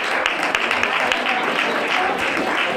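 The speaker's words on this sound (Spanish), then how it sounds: "Fuerte aplauso" Sustained applause fills a corporate awards ceremony in Marbella, a dense, steady wash of many hands clapping at an even level throughout.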